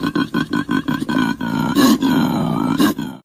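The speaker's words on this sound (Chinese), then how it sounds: "这是考拉，它的叫声是这样的。" A koala gives a deep, rasping bellow: a run of short rhythmic grunting snorts that swells into a longer, drawn-out groaning roar, loud and close.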